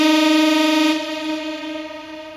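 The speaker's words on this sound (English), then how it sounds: "a little LFO on the pitch, and it makes it more organic. It makes it this vibrato kind of sound," Synth tone with LFO pitch modulation adding vibrato, a sustained buzzy chord with rich stacked harmonics that wavers slightly in pitch, loud at first and then dropping a little in level as it holds alone.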